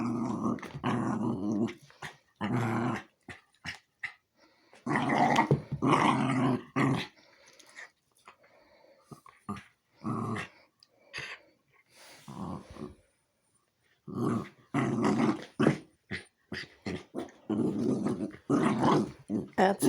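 A puppy growls softly and grumbles in short bursts with pauses between them, close and quiet, while a person speaks gently to it.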